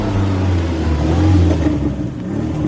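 Car traffic with engines revving, a loud continuous low rumble and whir of vehicles close by, swelling and easing without any voices.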